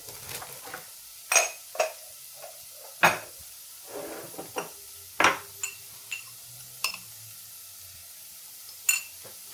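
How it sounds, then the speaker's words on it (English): Garlic with salt and pepper sizzles in a pan as it is stirred, a low, quiet fry broken by a dozen sharp clinks and scrapes of a utensil against the pan, irregular and close. "Give it a little bit of a stir."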